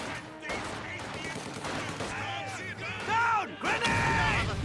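Machine gun fire in a strategy video game, with bursts and impacts, crashes and whistling effects, heard under a caster's commentary.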